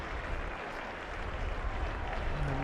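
A cricket crowd at Trent Bridge applauds spinner Shoaib Bashir after his fifth wicket during England versus Zimbabwe, a steady, distant wash of clapping over broad stadium ambience.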